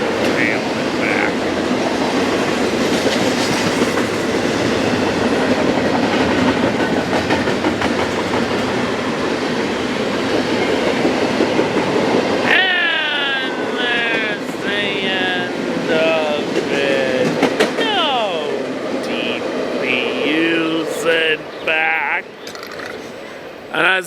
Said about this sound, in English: as this train heads to the ports